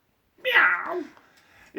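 A single drawn-out cat meow, close and clear, rising then trailing off over about a second before a brief voice begins.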